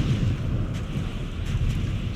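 Thunder rumbles low and continuous in God of War Ragnarok, a dull, rolling roar with faint higher crackles, steady and fairly loud throughout with no voices.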